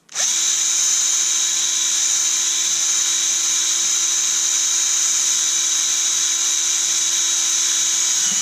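Power drill boring a hole through the plastic casing of a Dewalt 3.6V cordless screwdriver, a steady high whine that starts abruptly and holds unbroken for several seconds, loud and close with no talk.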